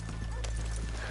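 Horses in the Red Dead Redemption 2 video game, with clip-clopping hooves and a brief whinny over a steady low hum, quick and close, with a voice talking faintly underneath.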